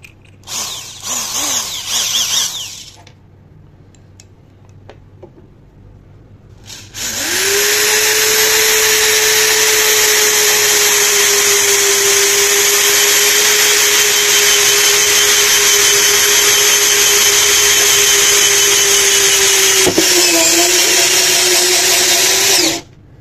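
A Romaton drill drives a self-drilling screw into 6 mm iron, its steady loud whine holding from start to near the end after a few quiet handling sounds.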